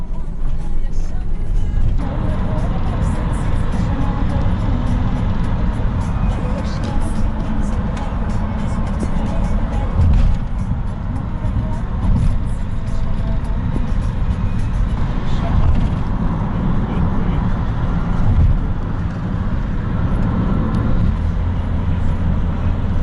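An Audi car pulling away after dropping someone in front of Trabzon airport, a steady engine and road rumble amid traffic noise, with someone talking over it throughout.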